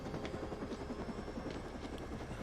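A helicopter in a TV show scene gives a steady, low rotor drone that holds evenly throughout. It is moderately loud and heard alone, with no speech over it.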